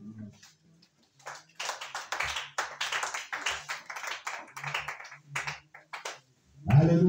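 A congregation claps during a church worship service in uneven bursts of sharp hand claps. The claps are fairly quiet and spaced out, with a brief pause early on and a louder thump at the end.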